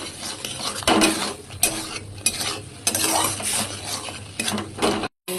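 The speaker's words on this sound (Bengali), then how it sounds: "এটা একটু ভাজা ভাজা হচ্ছে" Food fries in a pan while a spoon stirs and scrapes it, bursts of scraping and clinking over a continuous sizzle, close and fairly loud, with a brief drop-out near the end.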